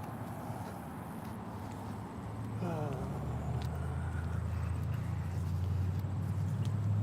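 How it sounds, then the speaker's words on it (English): A loud white SUV-style truck approaches with a heavy low engine rumble that builds steadily and stays strong through the end, over constant road background noise. "Here comes the white SUV. It's a loud truck"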